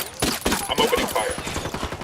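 Gunfire in Ghost Recon Wildlands, a loud close volley of rapid shots rattling without pause, with voices shouting underneath.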